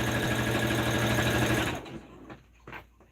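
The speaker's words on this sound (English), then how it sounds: "top stitching just makes it a little bit neater" A sewing machine top-stitches fabric for a bandana babydoll tank, running in a steady, close, rhythmic whir for under two seconds before stopping, followed by a few faint handling taps and rustles.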